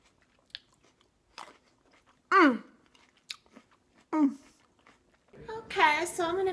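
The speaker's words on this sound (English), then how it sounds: "And they're crunchy and sweet." Crunchy grapes being chewed in short bursts of crisp, moist crunching separated by pauses, ending in a longer louder stretch of chewing; close and fairly quiet, with no talking during the bites.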